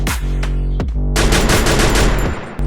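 M60 machine gun fire in a video game, aimed at a wall: a short burst, a brief gap, then a long sustained stream of rapid loud automatic shots close up, ending in a final pop.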